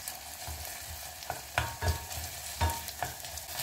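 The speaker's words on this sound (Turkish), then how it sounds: "Ve salçamızı da iyice kavuralım." Tomato paste frying with onions in a pan, a steady sizzle broken by several scraping stirs of a spoon, close and fairly loud with no voices.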